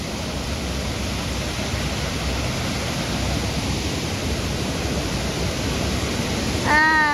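Rainwater rushes steadily at Ganesh lake in Nigdi, a continuous broad roar of flowing water that holds evenly throughout, with a brief voice-like sound near the end.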